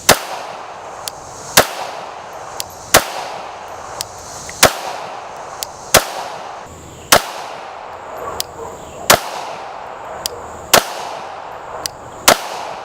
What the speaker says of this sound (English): We're also shooting some Blue Lake ammo. It's their X10 9mm, and some old HPR jacketed hollow points.